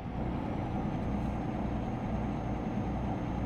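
A truck engine in a truck driving video game rumbles steadily and loudly throughout, a continuous low drone with no voices.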